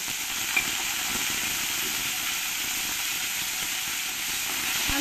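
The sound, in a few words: potatoes frying in hot peanut oil in a wok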